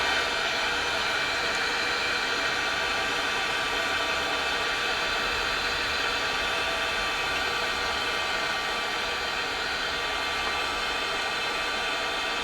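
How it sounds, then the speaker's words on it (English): Steady, loud broadband whoosh of a heat gun warming 3D pen plastic on a stencil, running continuously and evenly throughout with no talk. "But I like to get out my heat gun."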